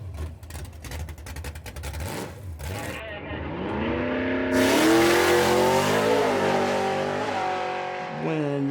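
Drag racing cars at a drag strip, engines roaring loud and close, rising in pitch as one accelerates hard, with a rough idling rumble and crowd noise underneath at the start.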